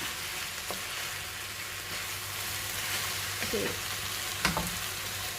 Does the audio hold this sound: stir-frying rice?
yes